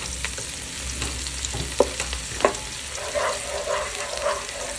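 Ginger and garlic fry in hot oil, a steady close sizzle with scattered clicks of a spatula stirring the pan, no voices.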